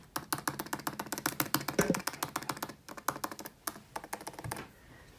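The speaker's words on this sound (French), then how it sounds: "on a les nouveaux claviers, donc avec le système comme ils disent papillon" Rapid typing on a 13-inch MacBook Pro's butterfly keyboard, close-up with dense, crisp key clicks in quick bursts and a few short pauses, tapering to sparse taps at the end, quiet with no talk.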